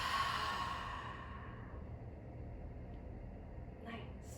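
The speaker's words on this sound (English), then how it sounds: "Exhale out all the air in your lungs" A person doing beginner yoga exhales a long breath through the mouth, a soft airy rush that fades out over a second or two, close and quiet, followed by faint room hush.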